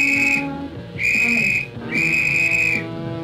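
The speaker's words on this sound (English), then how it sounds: "Each member of the party carries a whistle, but only the leader gives the four signals." Three loud, shrill whistle blasts from a search party leader's signal whistle, each about a second long, separated by brief pauses.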